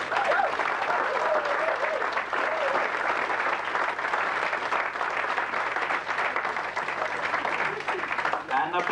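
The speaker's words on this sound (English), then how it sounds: "a big round of applause, please, for our winner tonight, Miss Cinderella." Sustained applause from a pantomime audience fills the room, with a voice talking over the clapping throughout.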